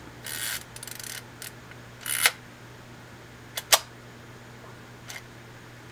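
A Zenit ME film camera's mechanism clicks and ratchets up close in a quiet room: a few short rasping winds and crisp shutter snaps, spaced apart, with no talking.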